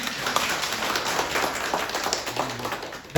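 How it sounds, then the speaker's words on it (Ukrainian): An audience in an art gallery applauds at an exhibition opening, a dense, steady patter of many clapping hands at moderate distance lasting a few seconds. "давайте, так як він прийшов, йому не аплодували, поаплодуємо зараз"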